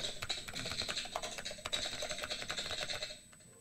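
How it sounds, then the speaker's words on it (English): Quick, irregular clicking of keys on a computer keyboard, steady and close, continuing for about three seconds before stopping, with no voices. "I am typing on my computer."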